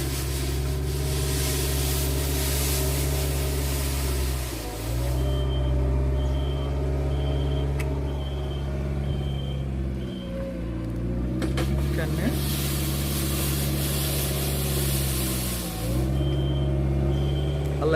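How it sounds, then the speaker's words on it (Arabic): A street sweeper vehicle works along a snowy street, its heavy engine drone and whirring brushes running steadily and loud, with hissing bursts and pitch dips as it moves and a few short beeps. "السيارة عم بتكنس الشارع"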